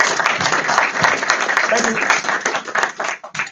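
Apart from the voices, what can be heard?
audience applause at a meetup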